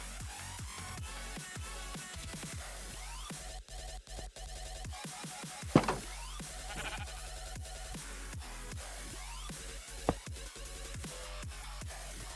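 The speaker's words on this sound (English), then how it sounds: "we're gonna try and put the sheep in the stasis chamber" A sheep in the Minecraft modpack Stoneblock 3 bleats several times in a blocky video game, with short repeated calls over a busy buzzing background of machinery sounds and no talking.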